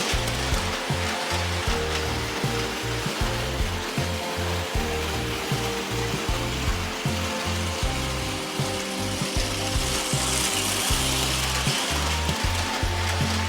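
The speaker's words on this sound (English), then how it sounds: "the Lionel 10E runs really, really well" A vintage Lionel 10E standard gauge toy locomotive runs steadily on track, its small motor whirring under a rhythmic clatter of wheels over rail joints, close and continuous throughout.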